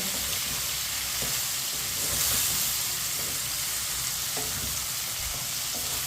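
Okra fries in a pan with a steady, close sizzling hiss, with faint scrapes and taps as a spoon stirs it, and no talking.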